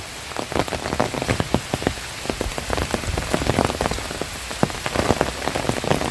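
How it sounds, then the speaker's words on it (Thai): Heavy rain pours steadily on a hard surface at a cemetery pavilion near a forest in Thailand, dense pattering with scattered louder drops throughout, close and continuous with no voices. "นี่บรรยากาศแบบนี้นะนี่ฝนตกด้วย ฝนตกด้วย"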